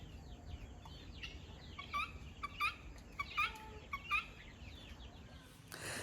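Guinea fowl and other poultry in a homestead coop alongside turkeys and ducks, giving a run of short, sharp clucking calls in bursts over a steady rustling background.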